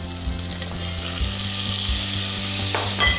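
Flour frying in butter in a pan gives a steady, close sizzle and crackle that holds evenly throughout, with faint scraping of a spoon stirring and no voices.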